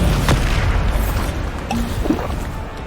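A Bombarda spell blast in Hogwarts Legacy lands as a loud, deep booming rumble, followed by smaller pops and clatter of debris, with no voice over it.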